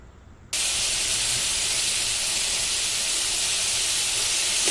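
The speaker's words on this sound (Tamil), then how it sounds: "அதுவும் இந்த பச்சை வாடை போகிற வரைக்கும் நல்லா அப்படியே வதக்கி விடுங்க." Ginger garlic paste hits hot oil with a sudden loud, steady hiss that holds unbroken after a quieter start, sautéing close by with no voices.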